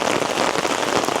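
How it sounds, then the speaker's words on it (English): Heavy torrential rain pours down in downtown Toronto, a dense, steady hiss of drops striking surfaces close by with no talking. "So I kind of have no choice but to head out into the torrential downpour"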